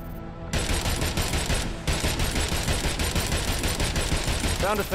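Sustained rapid gunfire in the Agents of Mayhem video game, a dense, loud barrage of overlapping shots that starts after a brief lull and continues almost without pause throughout.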